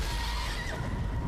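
A horse in the video game Ghost of Tsushima, Iki Island expansion, whinnies in a drawn-out, wavering neigh over a dense, rumbling background.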